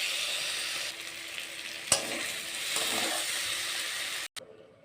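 Ginger, tomato and green chili frying lightly in a pan, a continuous close sizzle with stirring, a sharp clink partway through and an abrupt cut before quieter sizzling resumes.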